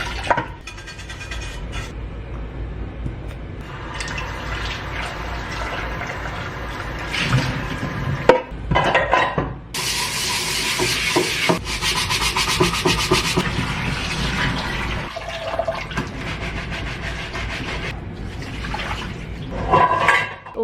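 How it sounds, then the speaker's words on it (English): Dishes are washed and a kitchen sink is scrubbed, with running water, rubbing and scraping against pots and plates in a continuous busy wash that swells with louder splashing bursts partway through. "Dishes are clean, sink cleaned, everything cleaned."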